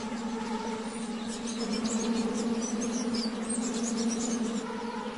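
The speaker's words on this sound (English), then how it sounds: "the air is choked with billions of flies" A vast swarm of billions of midges hangs over a lake, making a continuous droning hum that stays steady and fairly faint throughout, with no voices.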